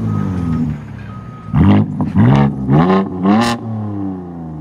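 A 2023 BMW M4 Competition with a 3.0-litre twin-turbo inline-six and X-pipe delete revs hard four times in quick succession, each loud blip rising and falling over a steady idle, close to the exhaust.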